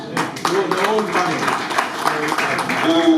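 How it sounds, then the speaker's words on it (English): A crowd at a cooperatives symposium in Lira claps steadily, dense applause running the whole time with a voice talking over it. "I think we did a big clap of hands to Ken Leonard."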